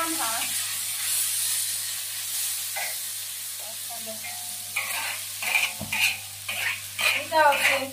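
Soybean sprouts stir-fried in a wok give off a steady loud sizzle and hiss, and scraping stirs of the spatula break in more sharply toward the end.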